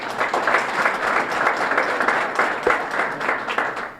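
Steady audience applause fills a Hall of Fame dinner, dense clapping from a crowd that holds at an even level throughout without talk over it.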